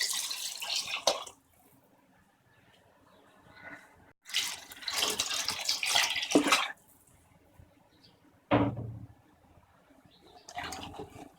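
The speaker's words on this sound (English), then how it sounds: "I'm adding 1 liter of water" Water is poured into a cooking pot holding rice and dal for khichdi, arriving in several splashing bursts separated by quiet pauses, close and fairly loud.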